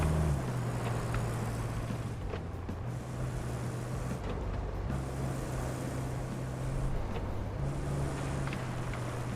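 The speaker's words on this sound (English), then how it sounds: "I can hear another vehicle." Another vehicle driving close by in RoadCraft after a disaster, with road and bridge construction underway: a steady low engine drone that shifts pitch in stepped changes, with rumbling wind-like noise over it, continuous and fairly loud.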